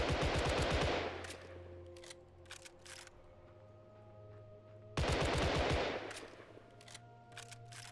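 Rapid rifle gunfire in the game Last Whisper, two fast bursts of loud shots about four seconds apart, each followed by quieter clicks and mechanical clatter, with no talking.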